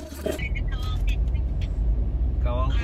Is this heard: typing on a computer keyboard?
no